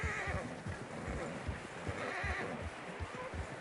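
Horses in Red Dead Redemption 2 trudging through fresh snow, a fast rhythmic clip-clop of hooves with snorting and a neigh, voices faintly underneath.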